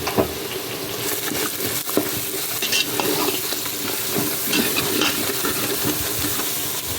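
Spices for biryani sizzle and crackle in a hot pan, a steady hiss with scattered pops and occasional scraping as they are stirred, close by.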